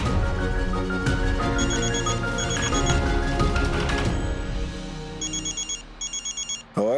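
A mobile phone rings with an incoming call, its bright repeating ringtone in short regular bursts rising over dramatic background music in a domestic scene, ringing alone without talk.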